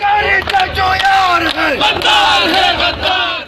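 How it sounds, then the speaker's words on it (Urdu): Rally crowd in Pakistan shouting slogans against the government at a protest over soaring inflation, loud massed voices chanting in continuous rhythmic bursts throughout. "ریلی کے شرکا نے نااہل حکومت کے خلاف شدید نعرے بازی کی."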